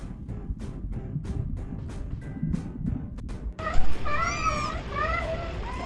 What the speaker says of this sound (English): kitten